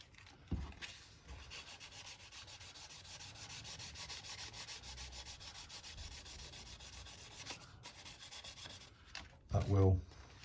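Fine 1500-grit sandpaper rubs steadily over tissue covering on a model Me262 free-flight aircraft, a soft continuous scratchy swish, then a brief louder knock and rustle near the end; no voices.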